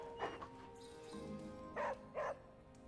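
Charlie the dog in Marvel's Midnight Suns gives a few short yips and barks, two clear bursts near the end over a faint game background hum.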